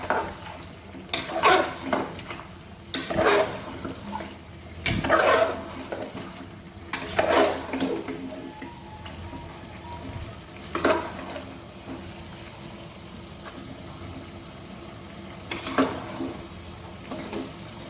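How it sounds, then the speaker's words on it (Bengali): Mutton curry with salt stirred and fried in a pot, a spoon scraping the bottom in repeated bursts every couple of seconds over a soft, continuous sizzle. "নুনটা ভালো করে মিক্স করে কষিয়ে জল দিয়ে দেবো।"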